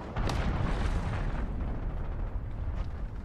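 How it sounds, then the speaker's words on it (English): Cruise missile explosion in Call of Duty: Modern Warfare Ground War, a deep rumbling blast that hits early and then rolls on at steady loudness for a few seconds. "Allied cruise missile away."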